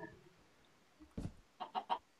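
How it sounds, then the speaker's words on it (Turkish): A chicken in the game Minecraft clucks in a short burst of three quick notes after a softer earlier squawk, set against faint background noise. "tavuk sesinden başka bir şey gelmiyor ki zaten"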